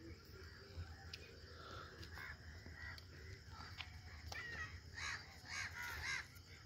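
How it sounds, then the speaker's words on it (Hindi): Crows caw repeatedly among other chirping birds at Sukhna Lake before sunset, with a faint outdoor murmur behind; the calls come in scattered bursts, growing busier toward the end. "तो पक्षियों की चहचहाहट"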